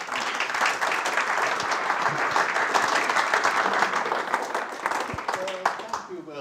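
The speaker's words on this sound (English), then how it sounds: "It's always scary when people clap before you've said anything" An audience applauds a speaker introduced at a memorial lecture, dense sustained clapping from a hall full of people with a voice faintly beneath, tapering near the end.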